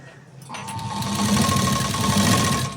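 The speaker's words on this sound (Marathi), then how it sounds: "आता ही पट्टी हळूहळू अशी ठेवत ठेवत इथं शिलाई द्यायची आहे" A sewing machine stitches a piping strip along a garment neckline, starting after a short pause and then running at a steady, close, mechanical hum and rattle until the end.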